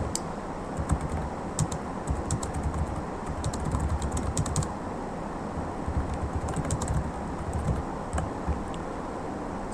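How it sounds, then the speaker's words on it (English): Typing on a computer keyboard, with a steady stream of soft, close key clicks and occasional louder taps over a quiet background. "I type in my message"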